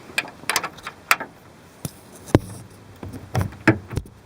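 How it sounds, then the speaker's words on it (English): Ratchet wrench working loose a fog light mounting nut on a Mazda B3000 pickup, producing irregular sharp clicks and metallic taps in short bursts, close up, with no talking. "I can actually use the ratchet instead of using the breaker bar"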